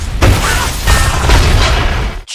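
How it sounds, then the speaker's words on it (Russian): A magic explosion in the King Arthur sword film: a loud, sustained broadband boom that rumbles and surges several times over about two seconds, then cuts off abruptly, with no talking. "Чудо-взрыв раскидывает всех плохишей"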